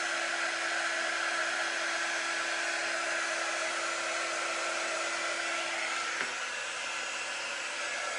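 A hair dryer blows steadily and loudly at close range, drying paint on autumn leaf decor; its even whooshing drone holds for the whole stretch with a slight dip near the end.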